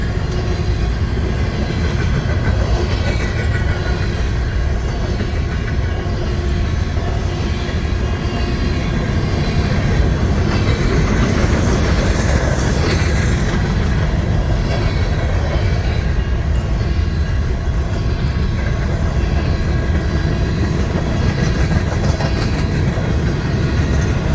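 An auto rack freight train rolls steadily past during the start of a blizzard in Missouri Valley, Iowa, a loud continuous rumble with clickety-clack from the wheels, close and unbroken throughout, with no talk.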